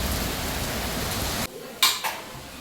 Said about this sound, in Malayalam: അപ്പോൾ അതേ മഴയുടെ ശക്തി കൂടി വന്നിട്ടുണ്ട് കേട്ടോ.